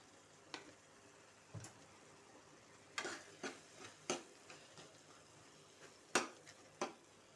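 Ginger garlic paste and chili powder frying with softened tomatoes in a curry pan, heard as a faint sizzle broken by sharp spoon clicks and scrapes at irregular intervals, with no voices.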